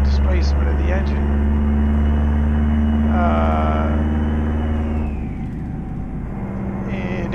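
Detroit Diesel 8V92 V8 engine in a K100 truck in American Truck Simulator, a steady low diesel drone running throughout, with a voice talking over it for much of the stretch.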